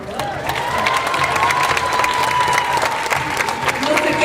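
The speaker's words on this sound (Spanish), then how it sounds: "Un aplauso para el maestro Virgilio." An audience at the opening plenary of an Ibero-American theatre congress applauds and cheers maestro Virgilio, with steady dense clapping and scattered shouts throughout.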